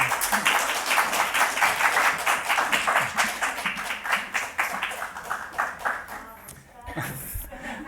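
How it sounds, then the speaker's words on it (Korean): Audience clapping at a church-hosted lecture before a presentation begins; a quick run of close hand claps swells, then thins and scatters out into a few last claps, with light chuckling and a voice near the end. "이제 박수를 한번"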